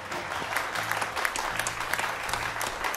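A crowd claps together at a political gathering in the Basque Country, with dense, steady applause of many hands filling the whole stretch and no voices standing out.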